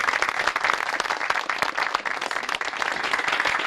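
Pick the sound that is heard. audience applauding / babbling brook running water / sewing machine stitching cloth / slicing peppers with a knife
audience applauding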